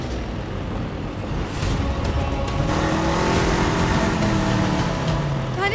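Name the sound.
scooter engine revving and speeding up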